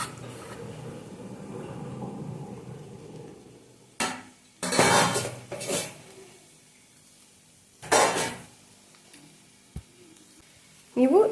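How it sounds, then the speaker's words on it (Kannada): Rice added to a pan for egg rice and stirred, heard as a soft background rustle followed by several distinct scraping, clattering bursts of a spoon against the pan, with short pauses between. "ಇವಾಗ ನಾವು ಇದಕ್ಕೆ ರೈಸ್ ಹಾಕ್ಕೊಳ್ಳೋಣ."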